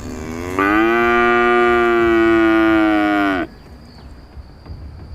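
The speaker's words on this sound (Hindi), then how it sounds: "भैंस जोर से बोली" A buffalo gives one loud, sustained bellow lasting about three seconds, close and forceful, then stops abruptly, leaving quiet rustling background.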